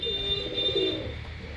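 Pigeons in a breeding loft give a soft, close, low cooing, a brief rolling call with a faint high tone running behind it, no voices heard.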